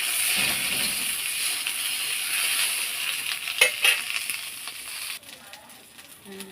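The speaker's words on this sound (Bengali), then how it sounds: "তুমি ভেন্ডি ছেড়ে দিতে কড়াইয়ে, ছেড়ে দিলাম কড়াইয়ে" Okra sizzles steadily in hot oil in a wok, a bright continuous hiss with a few sharp clinks and stirring knocks partway through.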